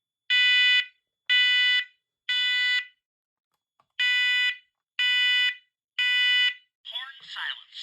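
A new home smoke detector horn blares in loud, steady harmonic bursts, three in a row, a brief gap, then three more, ending with a short burst of garbled electronic sound.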